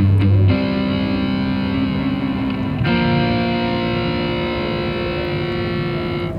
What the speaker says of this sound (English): When I pick soft like I did just now, you hear the distortion very clearly.